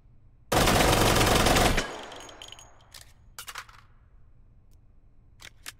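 A loud burst of rapid automatic gunfire from the VR shooter Hot Dogs, Horseshoes & Hand Grenades on HTC Vive lasts just over a second, followed by scattered metallic clicks and clatter of weapon handling.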